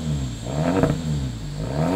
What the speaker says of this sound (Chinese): 排气的声音太突出了